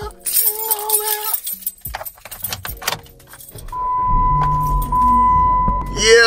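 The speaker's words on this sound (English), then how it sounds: "Boy, I thought I left my keys. Jingle bell, jingle bell." Car keys jangle in loud, sharp metallic bursts close by. The jangling then gives way to a car engine starting and idling beside a steady electronic tone.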